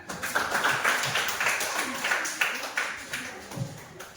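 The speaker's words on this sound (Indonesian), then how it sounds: "Oke, bagus, tepuk tangan." A classroom group claps together in a steady, fairly quick rhythm for several seconds, the sound moderately close and filling the room.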